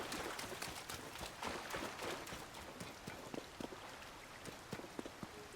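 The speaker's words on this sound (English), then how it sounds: "With the rain that never stops." Rain falls steadily in The Legend of Zelda: Tears of the Kingdom, a dense patter of drops hitting surfaces with scattered sharper taps throughout, fairly faint.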